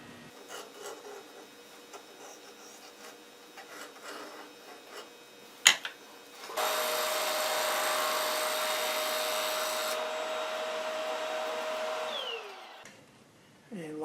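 A power saw cuts a dark wood disc, a loud rasping whine starting after a sharp knock and running steadily for several seconds before winding down, with quieter workshop handling beforehand.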